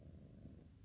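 A cat purrs softly while asleep on a person, a low, steady, rumbling vibration that is close and quiet and runs without a break.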